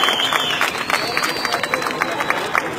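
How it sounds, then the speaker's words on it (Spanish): Outdoor crowd of students at a rally for masked marchers, a dense wash of clapping and cheering with shouting voices throughout, steady and fairly loud with no pauses. "Muchachos, démosle un aplauso a los compañeros allá que vienen gritando"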